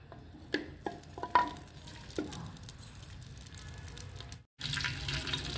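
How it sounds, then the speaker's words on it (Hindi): Ghee goes into a hot tava, with a few sharp clinks and taps of utensils followed by a soft, steady sizzle that breaks off briefly, then returns slightly louder. "ਹੁਣ ਮੈਂ ਤਾਵੜੀ 'ਚ ਘਿਓ ਪਾਵਾਂਗੀ"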